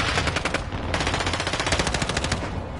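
Rapid automatic gunfire from a decoy grenade in Modern Warfare 2 rattles on loudly and without a break, its dense bursts filling the whole span.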